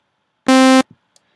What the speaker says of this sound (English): we're actually using an analog oscillator over here on the Thor.